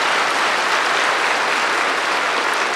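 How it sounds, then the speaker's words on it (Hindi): An audience at a spiritual gathering claps loudly and continuously, a dense even roar of many hands that carries on unbroken, with no voice over it. "इतनी शानदार चीज़ है, ताली बजाओ।"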